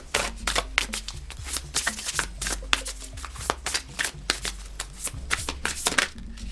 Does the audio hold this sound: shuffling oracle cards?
yes